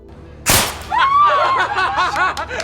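A single sharp, loud gunshot in a film cracks out, followed right away by high, wavering cries and voices that rise and fall.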